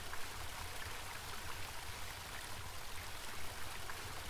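A cold river flows steadily in the video game Home, a constant broadband rush of water that holds an even level throughout with no voices or breaks.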